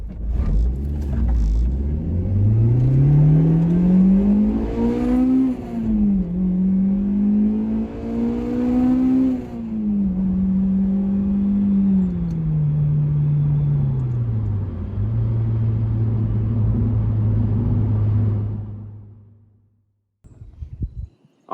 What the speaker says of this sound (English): VTEC works wonderfully on this car still.